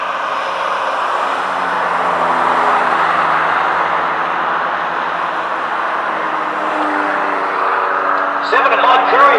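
Race cars on the front stretch of a short track at Beechridge in a Whiz Kids race, a steady engine roar passing with a commentator talking over it and a brief rise in noise near the end.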